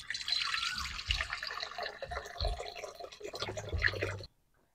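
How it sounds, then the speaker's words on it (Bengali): Water poured into a pan set on a lit stove, a close, continuous splashing and trickling with small gurgles for about four seconds before stopping abruptly. "এবার আমি জল দিয়ে দেবো।"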